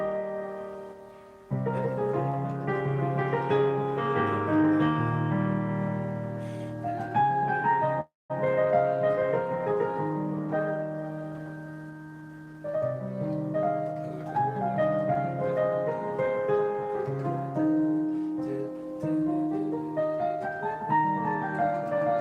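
Solo piano plays a flowing melodic piece that pauses briefly, then continues and shifts up into a higher key partway through, sounding steady and moderately soft with no voices.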